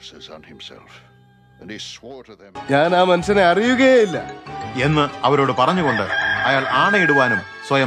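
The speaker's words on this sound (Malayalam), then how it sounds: "ഉടനെ കോഴി കൂവി." A rooster crows in a dramatized telling of Peter's denial from the Bible story of the crucifixion, briefly and in the first seconds, before someone speaks over music.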